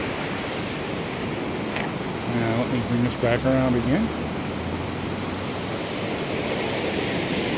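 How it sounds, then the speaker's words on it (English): Rushing river water roars steadily and loudly throughout at Vestal, New York, while someone speaks briefly over the constant torrent. "as you can hear from the roar of the water"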